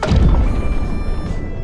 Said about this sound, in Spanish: una fuerte explosión acababa de despertar a todos